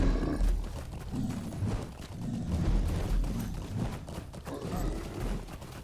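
Horse hooves clip-clop in a steady galloping rhythm in the Lord of the Rings Online game, fairly loud and close, with a low rumble beneath and no talking.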